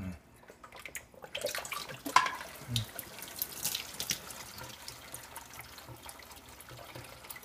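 Water sloshes and splashes inside a Hydor 450 aquarium canister filter as it is opened for cleaning, with faint irregular trickles and drips close by.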